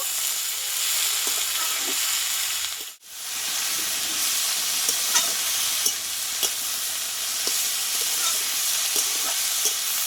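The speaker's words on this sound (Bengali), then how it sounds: "শাকটা আমি দু মিনিট মতো তেলে কষিয়ে নেব" Chopped bethua greens are sautéed and stirred in hot oil with tempered spices for a Bengali vegetarian ghonto. A loud, continuous close sizzle is broken by a brief dip and overlaid with scattered stirring scrapes and taps.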